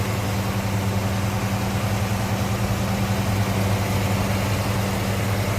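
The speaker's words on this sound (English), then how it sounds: "See, nice smooth running engine." A 1957 Chevrolet Bel Air V8 with dressed-up chrome valve covers and air cleaner idles smoothly and steadily, a low, even rumble holding at a constant level close by, with no talk over it.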